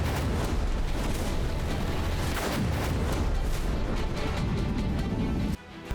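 Dense, continuous rumbling blasts and crackling booms from a bombing raid on Iran overlap for several seconds, loud and chaotic, then cut off abruptly near the end.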